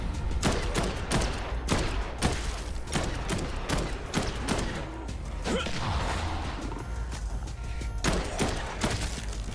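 Rapid bursts of weapon gunfire in the zombie game Dead Island 2, loud and close, with sharp repeated shots in uneven clusters over a dense, chaotic background of mechanical clatter.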